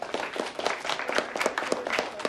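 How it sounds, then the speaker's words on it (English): A class gives a short round of applause for its top-performing teams, scattered hand claps heard at moderate distance and fairly soft, lasting only a couple of seconds. "let's give our super teams a round of applause"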